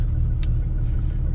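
A 2010 Dodge Ram 2500 truck engine rumbles deep and steady up close, a continuous low drone with one brief higher click partway through.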